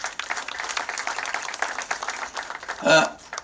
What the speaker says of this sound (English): We need a round of applause for this